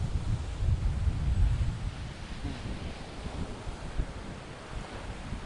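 Steady, blustery wind roaring against the microphone at Bangsaen beach, Thailand, in the early morning, with low rumbling gusts that swell and ease throughout, heavier at the start.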